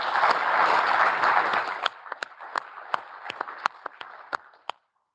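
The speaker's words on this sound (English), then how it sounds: "Also there, big applause to that team" Conference audience in Zurich applauding the event team, a dense burst of many hands clapping that thins quickly into a handful of scattered, sharp individual claps before stopping.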